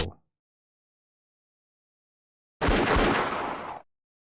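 Gunfire in the Flash game Zolaman, a short clipped burst at the start, a pause of silence, then a loud roughly one-second blast of noisy gunfire that cuts off abruptly.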